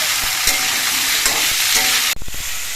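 Vegetables fry in a hot pan for khichuri, with a loud, continuous sizzle and stirring scrapes, ending in a brief clatter.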